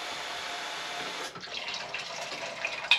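Water poured into a container to measure the volume of a yarn dye bath, a steady splashing stream that breaks off midway into gurgling and scattered drips, heard alone.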